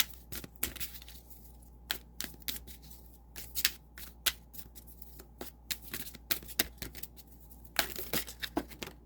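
An oracle card deck being shuffled by hand at a tarot reading, with quick crisp riffles and flicks in irregular bursts, close and fairly quiet.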